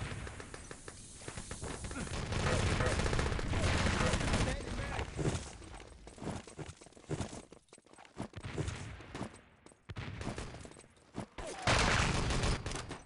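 Gunfire and a mortar round blast in the online shooter Wolfenstein: Enemy Territory, dense rattling shots and heavy bursts clustered in loud volleys with pauses between, with a player talking over the battle.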